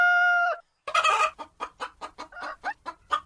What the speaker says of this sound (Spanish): Y la gallina, pues ya vimos que tenían estos